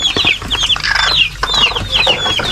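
Several hens cluck and chatter in quick, overlapping bursts, fairly close, with faint chick peeps mixed in over a low farmyard hum.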